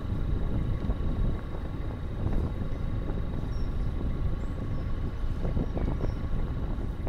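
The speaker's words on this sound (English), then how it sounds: "this wind and rain is getting a little bit too much at the moment" Steady wind buffeting and rain on a 15-ton narrowboat cruising a canal, a constant broadband rush with low engine-like rumble underneath, moderately loud and unbroken throughout.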